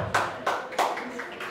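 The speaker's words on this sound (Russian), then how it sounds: "Аплодируем." A few scattered claps from the audience at a bachata dance competition qualifying round, four or five sharp, sparse hand claps in a quick uneven rhythm.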